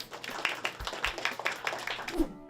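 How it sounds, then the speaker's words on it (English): Students at an elementary school give a short, lively round of applause for a student chef finalist. Brief scattered claps sound alongside chatter and a few voices. "Can we give her a round of applause?"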